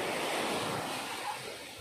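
Ocean surf on the beach at Mariveles, Bataan, heard as a broad, steady wash of waves with some wind noise, loud at first and easing slightly toward the end.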